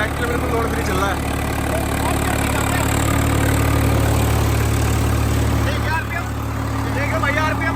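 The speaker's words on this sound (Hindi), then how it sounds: "ट्रैक्टर बिल्कुल लोड फ्री चल रहा है।" Tractor engine idling with no load at around 1500 RPM, a loud, steady low rumble with constant vibration throughout, with people talking over it.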